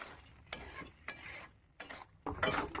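Raw mango pickle with melted sugar is stirred in a pan with a utensil, making quiet, intermittent scraping strokes against the metal.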